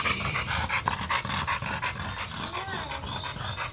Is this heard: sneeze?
no